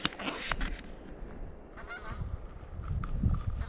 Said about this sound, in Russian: Утки летят.